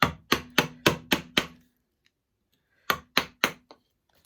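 A chisel struck repeatedly to pare out waste wood for a timber halving joint: six sharp, evenly spaced knocks, a pause, then three more, close and crisp in a quiet room.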